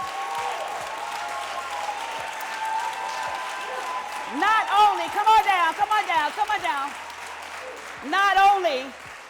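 Applause rises in bursts from a crowd at a school district address while people talk loudly over it.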